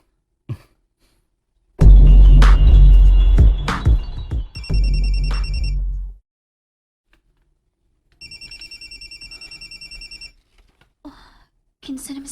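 A phone rings with an incoming call: bursts of electronic ringing, first under loud clattering and thumps, then alone after a pause, fairly near and bright.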